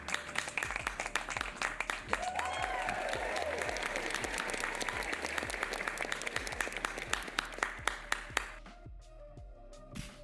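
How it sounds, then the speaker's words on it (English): A crowd breaks into sustained, dense applause with scattered sharp claps up close. It stays loud for about eight seconds, then drops away abruptly. "we can give them a round of applause"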